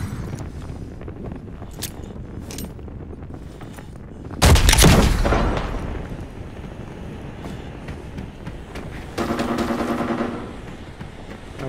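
A single loud, sharp gunshot from a sniper rifle in the shooter game Arena Breakout, with a ringing tail that fades over a second or two above steady background noise.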